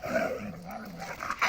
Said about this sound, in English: They're trying to introduce these dogs, like male dogs.